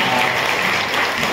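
Audience applause at a gathering in All Saints Church, Jhanzra, a dense steady patter of many hands clapping throughout the brief moment, fairly loud and continuous with no break.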